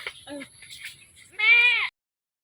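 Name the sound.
goat bleating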